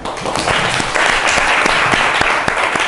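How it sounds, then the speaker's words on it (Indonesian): Steady applause from a classroom group, with dense clapping filling the room for about three seconds, no voices on top. "Baik, tepuk tangan."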